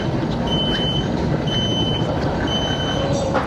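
A worn hub bearing on a Subaru wheel spun in the shop gives a steady droning hum with a few high beeping tones on top, close and continuous with no talk.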